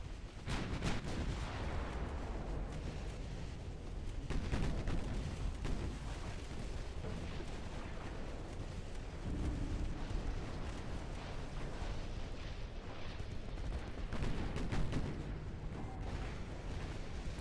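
Naval gunfire from warships in Ultimate Admiral Dreadnoughts, a dense, continuous barrage of booming shots and blasts with heavier bursts recurring throughout, loud and without voices.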